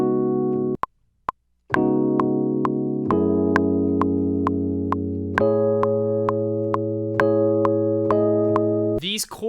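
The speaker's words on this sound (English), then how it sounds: "the first chord sounds kind of like a sus" Sustained synth or keyboard chords for a beat melody, opening on a suspended chord, change every second or two in a steady sequence with brief gaps, loud and alone without talk.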